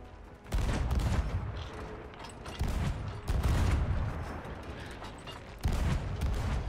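Ship cannons firing in Sea of Thieves, several heavy booming blasts arriving in bursts, each followed by a rumbling, crackling decay, repeating at intervals of a couple of seconds.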